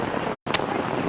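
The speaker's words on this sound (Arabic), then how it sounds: "الدنيا مطر، الدنيا مطر، الدنيا مطر" Heavy rain pours steadily in Old Sanaa during a flash flood, a loud continuous hiss that cuts out for an instant before resuming with a sharp tick.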